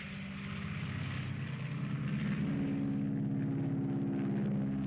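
A propeller airplane cruising over the ocean near Fort Lauderdale and the Bermuda Triangle gives a steady, droning engine hum with a throbbing tonal buzz, continuous and fairly close, with no talking.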